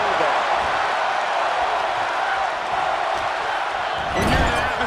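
Loud, dense roar of a wrestling arena crowd in the video game WWE 2K23, a steady wall of cheering and noise for the whole stretch, swelling slightly near the end.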